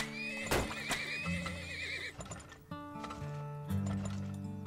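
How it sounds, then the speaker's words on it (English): Horses neighing in the video game Turmoil, several loud whinnies one after another with wavering pitch, mixed with clip-clop hoofbeats and a layer of game music, no talking. "I'm going to put down another couple of horses."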